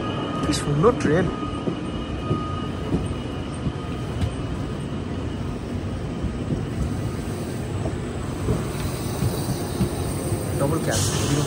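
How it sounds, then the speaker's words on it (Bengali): A Swiss Glacier Express mountain train, a double-cab set bound for Andermatt, rumbles past close by in a steady, continuous rolling roar with some talk faintly underneath. "কি সুন্দর ট্রেন।"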